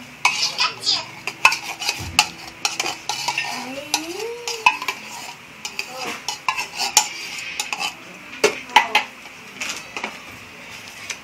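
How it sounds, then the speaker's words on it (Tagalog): A utensil clinks and scrapes rhythmically against a bowl while condensed milk and all-purpose cream are stirred together for a mango graham cake, with quick irregular taps close by. "Mix the condensada and all-purpose cream"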